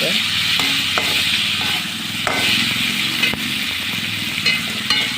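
Masala sautéing loudly in a pan for a whole-eggplant coconut milk kuzhambu: a dense, crackling sizzle up close, punctuated by repeated spatula knocks and scrapes at an uneven pace.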